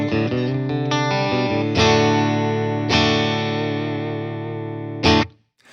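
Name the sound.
Fender American Performer Stratocaster, position two, two single-coil pickups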